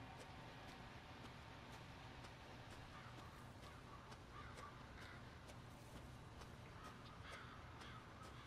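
Crows caw in sharp scattered bursts in Resident Evil 7, repeated calls over a dense, steady background hiss, fairly close and without any talking.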